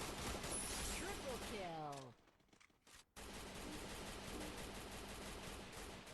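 Automatic gunfire in the battle royale game Free Fire rattles loudly in a rapid burst, drops to near quiet for about a second, then resumes as a dense, continuous wash of combat noise.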